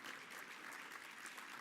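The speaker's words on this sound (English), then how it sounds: "let's give these great individuals a round of applause" Audience applause at an awards night honoring board members, a brief steady wash of clapping heard from a distance.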